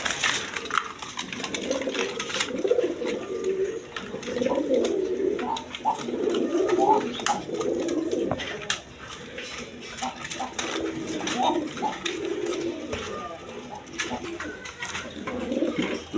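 Pigeons kept for sale coo steadily in a low, rolling chorus close to the microphone, repeated over and over with brief pauses, under clicks and light background clatter.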